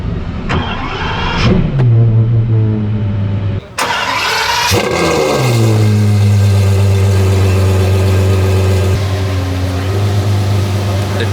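An Apollo Intensa Emozione supercar on an onboard lap of the Nürburgring, its engine loud and close, surging and holding rising harmonic tones with a brief dip before climbing again.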